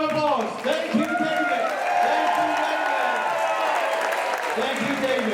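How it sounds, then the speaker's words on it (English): An audience applauds for David at a retirement celebration. Dense clapping and crowd cheering are heard throughout at moderate distance, with voices talking over the applause. "Big round of applause"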